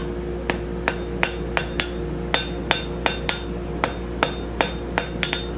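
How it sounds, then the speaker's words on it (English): Sharp metallic hammer strikes ring out as the hot metal corners of a door knocker are rounded, in a steady, slightly uneven rhythm, about a dozen blows over a low background hum. "Start hammering on the corners and just giving it a little bit of roundedness."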